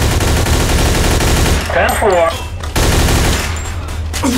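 Gunfire in Mafia II free roam: loud, rapid automatic bursts rattle almost continuously, broken briefly by a shouting voice in the middle before the shooting resumes.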